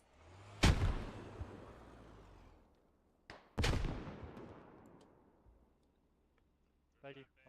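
A grenade blast in the shooter game Squad: two sharp, loud explosions a few seconds apart, each with a long rumbling decay, and a brief burst of voice near the end.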